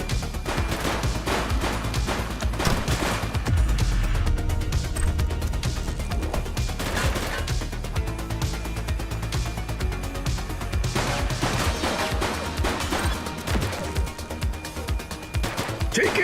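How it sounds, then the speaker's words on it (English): Gunfire in the police action game The Precinct, a steady run of sharp shots and bursts throughout, close and fairly loud over game music and ambience, with occasional voices. "He's shooting!"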